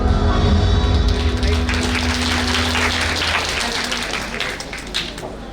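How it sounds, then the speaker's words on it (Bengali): An audience breaks into warm, sustained applause to welcome a speaker at a women's entrepreneurship training event, loud and close at first and slowly tapering off. "আসুন উষ্ণ করতালির মাধ্যমে স্বাগত জানাই মোহাম্মদ আল আমিনকে।"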